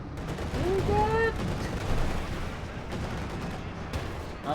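Tank cannon fire and battle noise in Company of Heroes 2, with loud booming shots, dense explosive rumble and a brief whistling tone early on, all fairly close and sustained.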